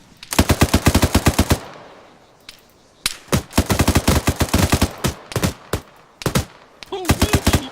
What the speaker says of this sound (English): get covering fire